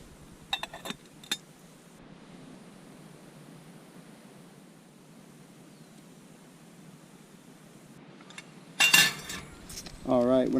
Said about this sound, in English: And get this lid on here.